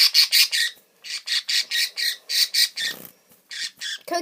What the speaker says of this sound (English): Now, Coconut is a loud one.